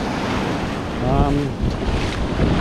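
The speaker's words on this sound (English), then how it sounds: "I can see the breaking waves" A steady roar of ocean surf breaking on shore, mixed with gusting wind buffeting the microphone, loud and continuous throughout.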